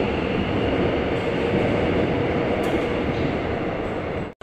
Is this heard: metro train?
yes